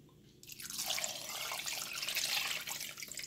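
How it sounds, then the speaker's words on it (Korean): Water is poured over ripe Dolsan mustard-leaf kimchi in a pot for kimchi stew, a soft close splashing pour that begins abruptly and runs steadily for a few seconds, with no talking. "물을 좀 붓고"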